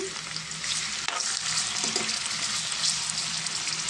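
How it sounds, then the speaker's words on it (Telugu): Onion and green chillies sizzle in hot oil for a village-style crab curry, a loud, continuous close-up hiss with occasional spoon scrapes and no talking. "ఆయిల్ మరిగిపోయింది దీంట్లో ఉల్లిపాయ పచ్చిమిర్చి వేసేసుకున్నానండి బాగా ఫ్రై అవ్వాలండి"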